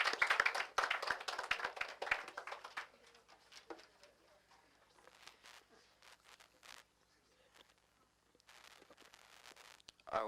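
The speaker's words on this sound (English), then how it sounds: "Let's give a warm round of applause for Michael Petrosino." An audience at a school poetry reading breaks into applause, with dense, loud clapping for the first few seconds that thins into scattered claps and quieter murmuring before a brief final burst.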